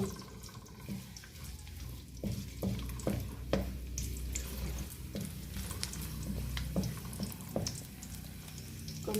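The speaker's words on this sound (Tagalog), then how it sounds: "Ito, ilagay natin ang bawang." Chopped garlic sizzles in hot oil in a wok, a steady wet crackle with scattered pops and a few scraping clicks, close up and with no voices.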